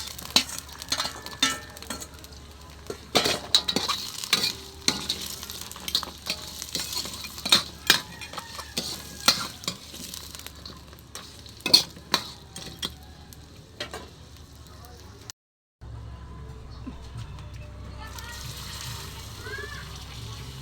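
Mung beans and crab with aromatics sautéing in a pan, soft continuous sizzle punctuated by sharp metallic clinks and scrapes of a stirring utensil, close and intermittent, with a brief dropout and a voice talking near the end.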